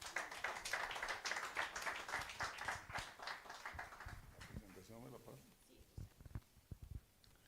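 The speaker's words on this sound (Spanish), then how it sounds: "recibámoslo con un fuerte aplauso." Audience applause welcoming a foundation director to the front at a Spanish-language event, a steady wash of clapping that thins out after about four seconds, leaving scattered claps and a few voices.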